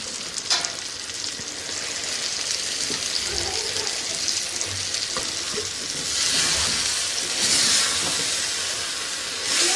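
Eggplant (baingan) sabzi sizzles and fries steadily in a pan, with stirring scrapes and bursts of hissing steam swelling in places; close, fairly loud, and no one speaks.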